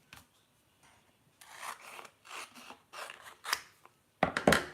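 Scissors cut through a sheet of acetate rhinestone transfer film in a quiet craft setting, a series of close, crisp snipping and rasping strokes in short bursts with brief pauses, louder toward the end.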